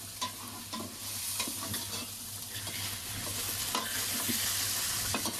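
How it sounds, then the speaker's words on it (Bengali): Spice paste frying with a fish head in a pan, a steady hiss of sizzling with soft scraping strokes of a spatula, no voices. "এখানে মশলাটা কষায় ফেলছি"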